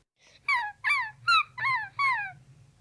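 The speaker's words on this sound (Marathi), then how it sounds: "कुत्रा, डॉग." A dog gives five rising, whining yelps in a steady rhythm, each about half a second long, heard close and moderately loud over a low background hum.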